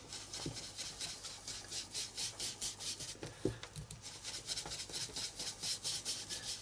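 Paper edges on a mixed media art journal page are distressed with quick, rhythmic rasping strokes, about three per second, close up and alone with no talking.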